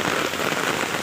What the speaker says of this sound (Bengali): স্টেশনে আসলাম, কি বিশাল জোরসে বৃষ্টি বাবা